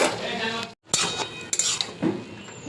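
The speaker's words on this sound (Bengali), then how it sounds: "এবার ঢেকে রেখে দেব।" A metal lid goes onto a cooking pot of papaya and dal, with sharp clanks and clinks of metal on metal, a brief pause between knocks, close by and fairly loud.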